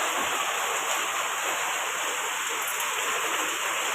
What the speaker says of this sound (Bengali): দেখো কেমন মেঘ ডাকছে তেমন হাওয়া দিচ্ছে তেমন বৃষ্টি